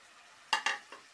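Tomatoes tipped into potato mince (aloo qeema) frying in a pan make three short, close bursts of clatter and sizzle, with quiet between them and no talk.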